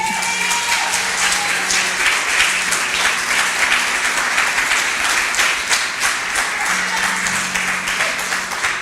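Loud, sustained applause from a church congregation during a sermon, many people clapping together in a thick continuous roar that holds steady throughout.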